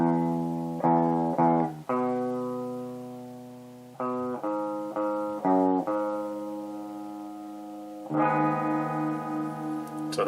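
Clean electric guitar with no effects, playing sustained chords and picked notes in a steady sequence of strikes that ring out, loud and close with no voices.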